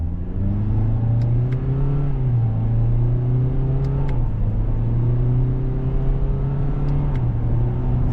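A 2025 Toyota Corolla SE Hatchback accelerating, its engine droning steadily and loud from inside the cabin, pitch rising in stages with brief dips between simulated shifts, over constant road rumble.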